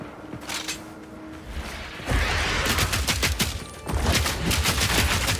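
Gunfire from the video game Witch Hunter: a few shots at first, then dense rapid volleys of loud, close shooting with mechanical clatter, no talking.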